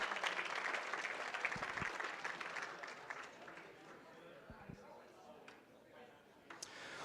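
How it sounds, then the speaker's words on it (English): Audience applause at the St. Philomena 2023 auction for donors, lively clapping at first that thins and fades toward the end, with occasional sharp knocks and a brief voice near the close. "Let's give them a round of applause."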